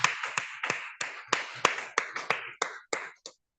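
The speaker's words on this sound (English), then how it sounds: "Let's give her a round of applause" Sparse, distinct claps from a small audience at a Toastmasters club meeting, about a dozen crisp, separate hand claps in an uneven rhythm, close and fairly soft, fading out at the end.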